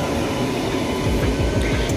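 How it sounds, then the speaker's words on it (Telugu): A Narasapur to Arunachalam passenger train pulls away, a loud, close, continuous low rumble and rolling clatter of wheels and carriages that holds steady throughout. "రైలు అయితే బయలుదేరడం జరిగిందండి"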